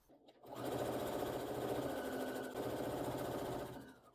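Sewing machine running a reinforcing backstitch seam on broderie anglaise fabric: a steady, close, fast mechanical rattle for about three seconds, starting and stopping cleanly.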